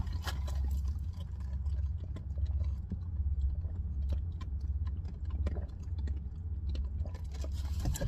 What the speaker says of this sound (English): Let her chew on that bone for a little while.